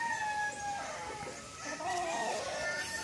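Chickens at a poultry yard, with a rooster crowing and hens clucking in a noisy outdoor setting, fairly faint over steady background noise.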